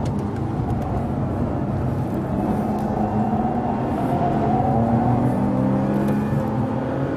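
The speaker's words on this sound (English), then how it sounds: "I'm driving the most extreme Bentley" A Bentley Continental Supersports on the Nurburgring gives a steady, loud engine drone inside the cabin, its pitch rising and falling gently as the car is driven hard, with no talk.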